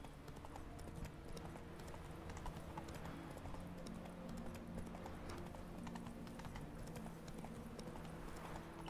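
Roach the horse gallops in the video game The Witcher 3, a steady, quiet stream of rhythmic hoofbeats under faint game ambience.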